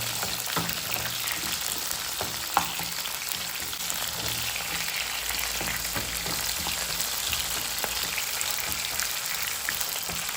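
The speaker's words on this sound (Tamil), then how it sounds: "இதோட வெங்காயம் சேர்த்துக்கலாம். வெங்காயம் நல்லா பொன்னிறமாக வதங்கணும்." Onions sizzling steadily in hot oil in a pan for a Tamil vegetarian kara kuzhambu, a dense continuous frying hiss with occasional faint stirring taps throughout.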